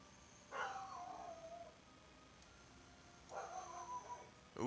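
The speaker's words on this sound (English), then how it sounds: "Ooh, my dog is upset about something." A dog whines and howls in two drawn-out, wavering bursts a few seconds apart. The cries are fairly close but quiet, over a low background hum, with no speech.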